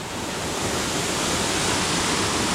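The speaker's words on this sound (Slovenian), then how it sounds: "zdaj si pa ogledajte tale slap v Belem potoku" A tall waterfall of about 30 metres on the Beli potok in the wild Belca valley of the Karavanke keeps up a dense, even roar of falling water. The sound is close, loud and steady, with no voices over it.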